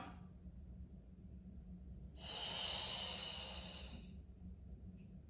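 Deep breathing during a pregnancy pilates session: one slow, breathy exhale or inhale of about two seconds stands out clearly over a quiet background hum.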